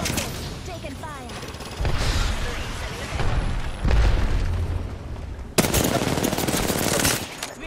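Dense gunfire in a shooter video game, with sustained loud bursts of rapid automatic fire and booming impacts that swell in waves, ending in a sharp louder crack followed by continuous heavy firing.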